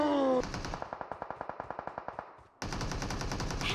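Rapid automatic gunfire in the battle game PUBG Mobile: a steady burst of about fifteen sharp, evenly spaced shots, then a brief lull before a denser, louder stretch of firing.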